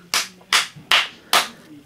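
Four sharp hand claps given as a four-out-of-five review score for a Peppa Pig foam puzzle, evenly spaced about a beat apart, loud and close with no talking.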